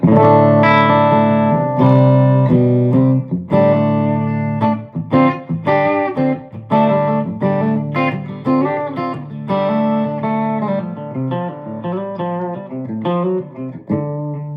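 Electric guitar on the bridge pickup picks a lively twangy run with short slapback echoes and reverb, loud and close, notes ringing with a slight gritty edge.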